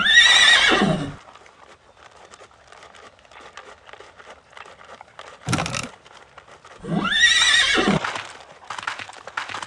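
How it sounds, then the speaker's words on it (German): A white stallion in a PC riding game whinnies loudly twice, one long neigh at the start and another near the end, with faint hoof clip-clop and rustling between. "Auf der Lichtung stand ein weißer Hengst. Er hat so laut gewiehert"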